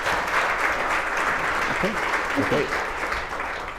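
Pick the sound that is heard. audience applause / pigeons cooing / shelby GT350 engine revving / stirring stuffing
audience applause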